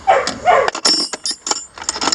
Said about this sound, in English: That's Boots trying to get the other dog to play with him.